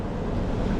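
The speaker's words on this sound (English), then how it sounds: "y'all gotta pardon the fan noise, man." A steady whooshing hum of an electric fan runs close to the microphone without pause.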